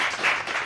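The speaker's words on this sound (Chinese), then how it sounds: "好， 鼓掌！" A small group of people clapping together in a room, a short burst of fairly close applause with no speech over it.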